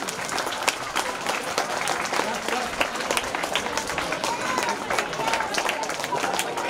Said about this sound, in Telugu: బాయ్స్ అండ్ గర్ల్స్ క్లాప్స్ ఆపమని చెప్పలే నేను.